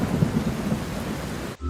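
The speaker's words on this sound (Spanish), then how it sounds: "Entonces se formaron unas gigantescas nubes y llovió durante millones de años" Heavy rain with thunder: a dense, steady roar of downpour with deep rumbling underneath, loud and continuous, then cutting off abruptly just before the end.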